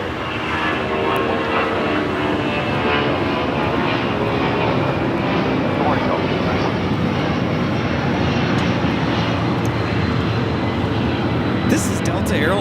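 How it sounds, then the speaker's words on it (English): A Delta Boeing 757-200 jet bound for Mexico City takes off at LAX, its engines a loud, steady broadband roar that holds evenly throughout with no break. "This is Delta Airlines 631 taking off to Mexico City on the 757-200."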